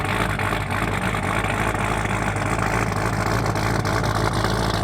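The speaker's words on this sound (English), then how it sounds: "when Ben comes over with his C6 Z06 and it sounds like this" A Corvette C6 Z06 with an aftermarket camshaft idles steadily and close by, with a deep, continuous engine rumble that carries a slightly uneven, lopey pulse throughout and no talking over it.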